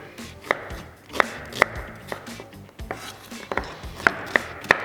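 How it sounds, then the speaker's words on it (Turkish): A knife chops an onion on a cutting board in a series of crisp, fairly regular strikes, close and distinct over quiet background noise. "Bir adet soğanımı şöyle küçülteceğim."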